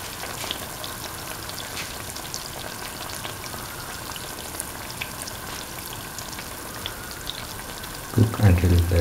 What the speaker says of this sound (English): Cook until the pancake turns golden brown on both sides.